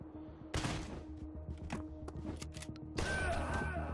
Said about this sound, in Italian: mi sparano da dentro la casa